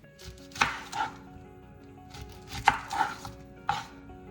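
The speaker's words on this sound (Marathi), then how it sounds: "कॅप्सिकम आणि कांदा छान चौकोन आकाराचं कापून घेतलं आहे मी" A knife chops capsicum and onion into small cubes on a board, giving a few sharp, close blade strikes in irregular clusters with quiet pauses between them.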